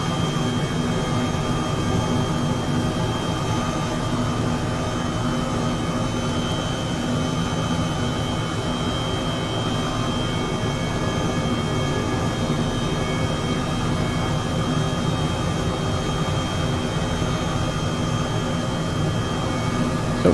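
Airbus H135 helicopter in Microsoft Flight Simulator 2020, flying from San Francisco toward the Oakland Bay Bridge: a continuous, loud turbine whine and rotor roar, steady and unbroken, with no voices.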